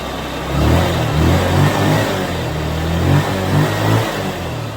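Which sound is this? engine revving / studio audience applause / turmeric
engine revving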